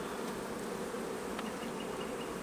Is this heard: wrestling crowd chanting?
no